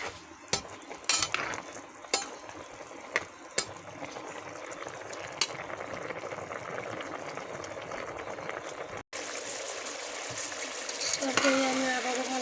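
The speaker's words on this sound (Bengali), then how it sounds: "এবার ভালো করে নেড়ে দেবো।" A spoon stirs a simmering potato and kochur loti curry in a pan after ginger-cumin paste is added, giving repeated scraping strokes over a steady bubbling sizzle that grows louder and wetter near the end.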